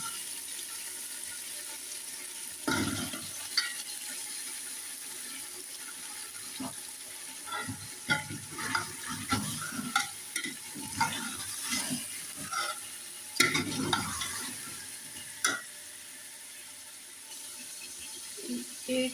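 Masala for biryani pulao fries in a pan with a soft, continuous sizzle, broken by scattered stirring scrapes, utensil knocks and bursts of running water nearby. No voices.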